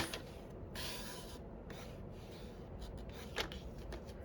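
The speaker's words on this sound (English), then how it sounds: "all I'm going to do is just trim that little bit off" A paper trimmer slicing a small flap off card stock, a few soft, quiet rasping strokes heard close up with no talk.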